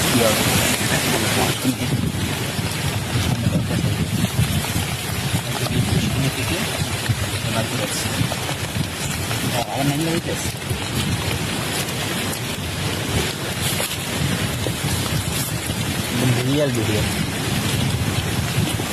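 Heavy rain pours down on a flooded village yard, a loud, continuous broadband roar that lasts throughout, with faint voices occasionally rising under the downpour.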